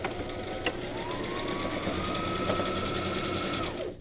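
A sewing machine stitches quilt strips in one continuous, fast, even run, close and moderately loud, guided along the presser foot, then winds down and stops near the end.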